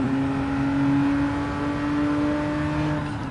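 A Genesis G70 Group 4 race car in Gran Turismo 7 holds a steady, loud engine hum with a sustained tonal whine throughout, no talking over it.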